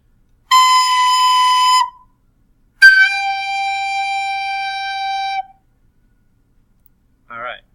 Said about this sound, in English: so you hear the pitch go down, which is what we expect our car's horn to do.